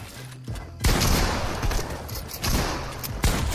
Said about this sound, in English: you saw him shoot his shotgun a second time